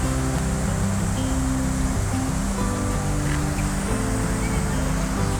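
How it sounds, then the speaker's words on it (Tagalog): Strong ocean waves wash steadily against the shore at Magsaysay Park, a loud, continuous roar of surf with no talking. "Yan, napakalakas ng alon, no?"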